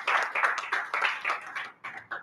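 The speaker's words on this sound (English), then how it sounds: "a big round of applause to Toastmaster Rashmi for taking up the role last minute" A small club meeting audience gives a quick round of applause, a brisk rhythm of close, clear hand claps that thins out into a few last claps near the end.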